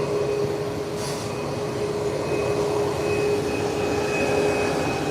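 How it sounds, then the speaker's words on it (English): A British Airways Boeing 777 airliner takes off and climbs, its steady broadband engine roar continuous and fairly loud throughout, with no voices. "Nose wheel is up and it's away. Up and away. Nice takeoff."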